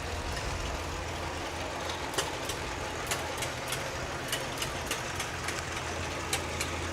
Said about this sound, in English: Are they shelling corn?